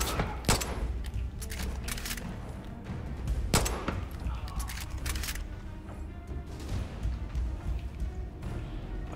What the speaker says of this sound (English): Use the 1911 as a sniper rifle. It's very good for that.